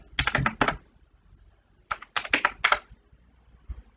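A value being typed on a computer keyboard: a short burst of quick, close key clicks, a pause of about a second, then a second longer flurry of taps in a quiet room.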